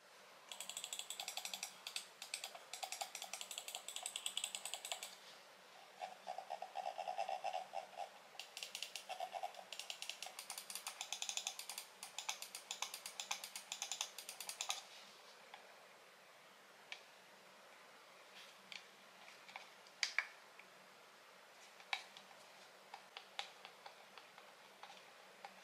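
Clicks from a Zaopin Z2 gaming mouse with TTC gold switches: rapid, light, crisp clicking up close, dense bursts for about fifteen seconds, then sparser individual clicks in a quiet room.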